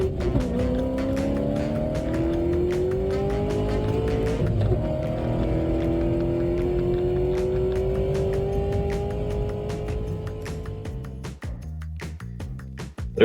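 Race cars roar continuously through a tight pack in an American muscle car racing video game, engine tones rising and falling with gear shifts, closing with a brief abrupt change near the end.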